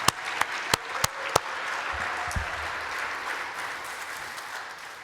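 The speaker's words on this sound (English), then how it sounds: "Give the soil a big clap, by the way." At an organic industry leadership awards celebration, an audience breaks into applause. A few sharp, separate claps come first, then a steady, moderately loud wash of clapping that slowly fades.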